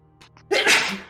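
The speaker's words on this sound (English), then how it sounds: "Demon sneeze." A single loud, close sneeze bursts out after a brief sharp intake of breath during a tabletop role-playing session, with a breathy fading tail.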